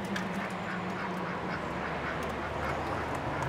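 A group of ducks quacks repeatedly in short, nasal bursts at moderate distance over a soft outdoor background.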